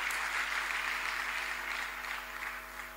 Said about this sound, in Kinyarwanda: Mumfashe tumukomera amashyi tumushimire.